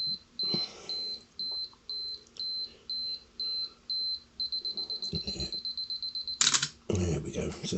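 A Canon AE-1 Program 35mm SLR from 1981 runs its self-timer, sounding a series of evenly spaced short beeps that speed into a rapid run, then a shutter click and mechanical clatter, with light handling noise.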